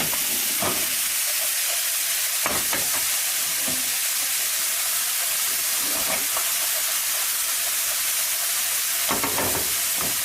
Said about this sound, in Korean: 그리고 파스타 면을 잘 버무려주세요.